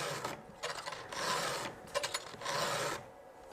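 A hand file sharpens the teeth of a Stihl chainsaw chain with a Stihl sharpening tool: close, steady rasping strokes repeat in an even rhythm, each grinding pass followed by a quieter return.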